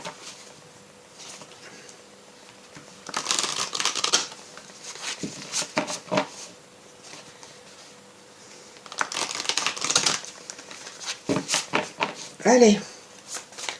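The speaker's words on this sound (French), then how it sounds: "Je vais brasser parce que je ressors les cartes de l'ancien tirage." Tarot cards are shuffled by hand in two rustling, riffling bursts with quieter gaps between, close to the mic, while someone speaks French softly.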